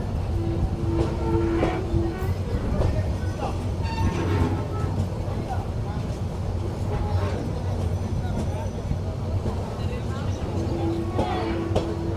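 The Cox's Bazar Express rumbles along the rails near Feni Junction in Bangladesh, a steady loud roll with rhythmic clatter heard from on board, while a voice talks intermittently over it.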